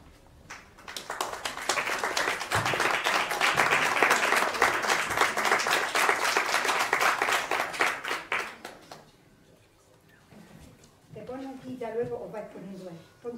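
Warm, sustained applause from an audience at a conservatory piano competition semifinal fills a hall, swelling for several seconds then fading, before a presenter's voice speaks over a quieter room.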